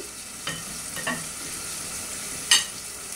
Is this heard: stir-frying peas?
yes